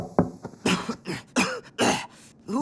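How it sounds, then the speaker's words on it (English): A cartoon character coughs in a few harsh, uneven bursts with throat-clearing sounds between them, close and fairly loud, heard alone without speech. "you're coughing. Are you sick?"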